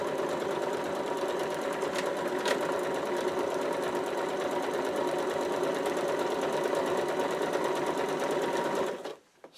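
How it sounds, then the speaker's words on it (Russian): A domestic sewing machine, just adjusted at the needle bar to fix skipped stitches, stitches in a continuous, fast, even whir close up, then stops abruptly near the end. "Теперь пробуем шить."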